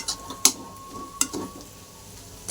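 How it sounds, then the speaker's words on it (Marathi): Fried potatoes with peanut powder and salt are turned in a pan, with two or three sharp scraping strokes over a faint, soft sizzle nearby. "आता परतून घेऊ, एक जीव करून घेऊ."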